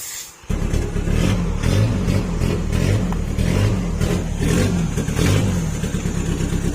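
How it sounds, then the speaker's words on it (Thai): A Chevrolet Captiva fitted with a 1.9 engine control unit fires up and revs hard, its engine roaring loud and close in steady surges after a brief quiet start, with no talking. "เดี๋ยวเราจะไปสตาร์ทเครื่องให้ฟังนะครับ"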